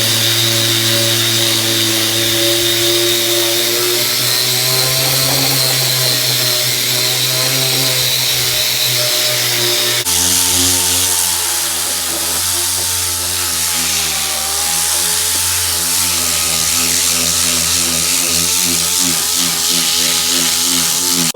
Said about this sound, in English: now that we've got this floor pan buffed up and cleaned up